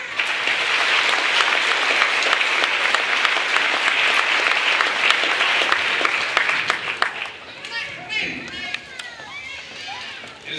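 A large crowd at the 2016 College of Marin commencement ceremony applauds in a dense, sustained wash of clapping, which fades in the final seconds as scattered voices come through.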